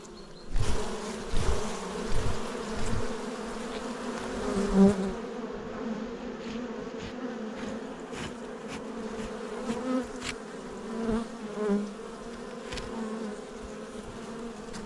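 A steady hum of buzzing bees fills the space, close and continuous, with occasional louder buzzes as individual insects pass near.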